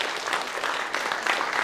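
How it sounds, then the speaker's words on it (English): An audience at a fringe-festival mind-reading show claps in a steady, dense round of applause throughout, with no talking over it. "Give her a round of applause, everybody."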